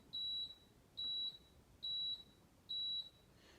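A Power XL oven set to bake gives four evenly spaced, high, clean electronic beeps, each about a third of a second long, in a quiet kitchen with no talking.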